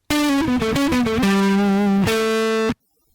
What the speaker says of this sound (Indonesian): Setelah kita beri efek distorsi menjadi